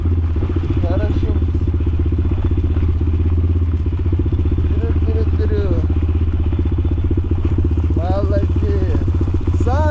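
A motorcycle engine putters steadily and close while being pulled along by pit bull dogs, a voice repeatedly urging them on over the constant idle.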